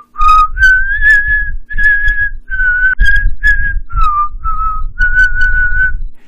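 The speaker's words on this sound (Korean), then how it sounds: "그리고 휘파람을 불며 다가옵니다" Someone whistles a clear, wavering melody up close, the notes rising and falling in short phrases over a soft thumping background.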